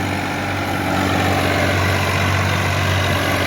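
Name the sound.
TAFE 30 DI tractor engine running rotavator under load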